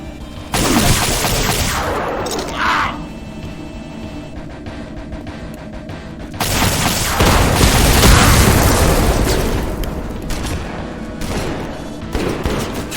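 Gunfire and exploding barrels in the GZDoom game fill the space with heavy booms and rapid shots, a dense loud barrage that swells and continues throughout, with no talk.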